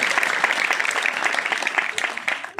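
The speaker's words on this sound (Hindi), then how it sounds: "आप सबकी भरपूर तालियां हैं।" Audience applause at a religious gathering, a dense steady clatter of many hands clapping, loud and close, sustained for the whole stretch and tapering slightly at the end.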